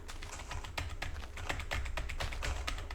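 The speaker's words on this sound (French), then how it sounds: "est-ce que je bourrine sur mon clavier? Très clairement." Rapid, hard mashing on a computer keyboard during a From the Fog game session: dense, continuous clacking of keys at a fast, irregular rhythm, close and fairly quiet.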